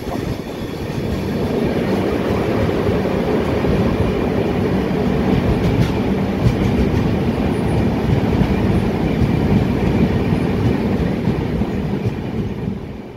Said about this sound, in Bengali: যখন এই টানেলের মধ্যে দিয়ে ট্রেনটা প্রবেশ করে,